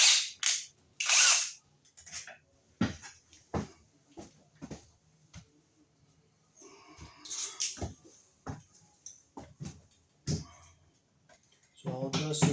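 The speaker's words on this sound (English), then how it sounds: "I gotta get my hand screwdriver now." Hand screwdriver tightening screws to fasten the mounting plate of a Project Source FB18-070C wall sconce onto an electrical box: scattered sharp clicks and short scraping turns, close and fairly quiet, no talking.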